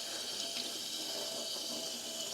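Tap water runs steadily into a sink while dyed cotton floss is rinsed, a soft continuous hiss and splash heard fairly faint and alone.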